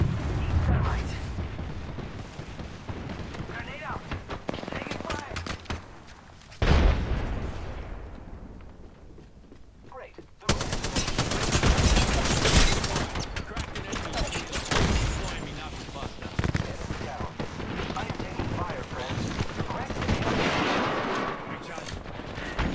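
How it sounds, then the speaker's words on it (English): Heavy bursts of gunfire and explosions rumble loudly in a chaotic Apex Legends match during a Knuckle Cluster barrage, broken by a quieter lull midway before the blasts resume, with voices talking over parts of it. "Stand back, knuckle cluster's firing."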